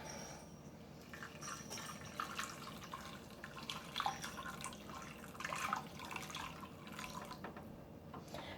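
Two cups of water poured into a container for microwave egg fried rice, a faint steady trickle and splash that rises and falls, with a few brighter drips, quiet and close with no talk.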